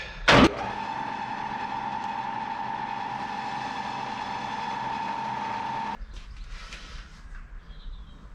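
Wood lathe spinning a wooden workpiece with sanding paste applied, a steady loud motor whine holding one pitch for several seconds after a sharp start, then cutting off abruptly and leaving faint rattles.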